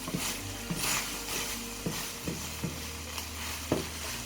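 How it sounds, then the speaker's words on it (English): Mushrooms sizzle softly in a pan with a steady hiss, punctuated by occasional clicks and taps of a utensil, fairly quiet and close. "I'm getting some frying sounds."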